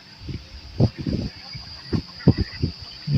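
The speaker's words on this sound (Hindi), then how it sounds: "देखो बत्तखों को" Ducks quacking outdoors near green trees and plants, several short, loud, close calls in irregular bursts with quieter gaps between them.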